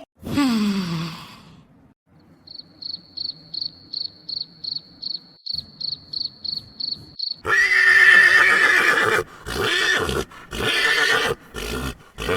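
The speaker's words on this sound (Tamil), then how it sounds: "ஆஹா குதிரை சத்தம் கேக்கு" A cartoon horse gives a falling whinny at the start. A long run of evenly spaced, insect-like chirps follows, then loud, broad bursts of sound near the end.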